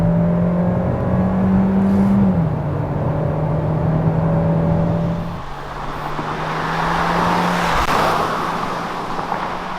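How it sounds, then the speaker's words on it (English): A 2020 Kia Seltos with a 1.6-liter turbo engine of about 177 horsepower pulls steadily under acceleration, its engine tone rising through the gears with a clear shift, heard from inside the car over road and wind noise. "it pulls the car linearly all the way up to the red line"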